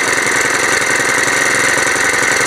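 A two-stroke engine on a brush cutter runs loud and close, a steady buzzing roar with a fast, even rhythm throughout and no voices.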